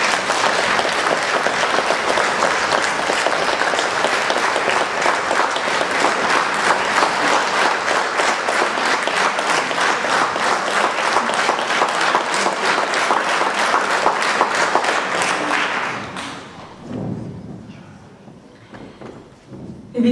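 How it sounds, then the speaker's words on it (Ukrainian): An audience applauds a string ensemble at the Ivano-Frankivsk regional philharmonic, loud dense clapping filling a hall for about fifteen seconds before fading out into near quiet. "І зараз прошу ваших оплесків."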